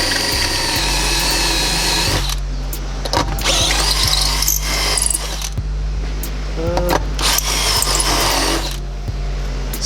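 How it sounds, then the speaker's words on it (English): A power drill with a step bit bores a hole for a console bracket in a 2003 Honda Element, whining loudly in several bursts with short pauses between them, close to the microphone. "So I just got a step bit here, and I just drill it."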